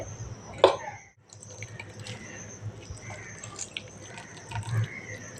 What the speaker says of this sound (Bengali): এইভাবে চিপে থোড়ের জলটা ফেলে দিচ্ছি